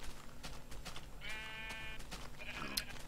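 A Minecraft sheep bleats twice, its wavering voice standing out against quiet background game sounds.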